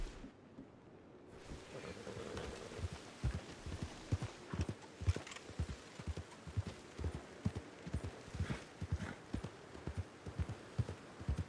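Horse hooves clip-clop in a steady walking rhythm in the video game Red Dead Redemption 2, close and clear, with faint ambient game noise underneath and no talking.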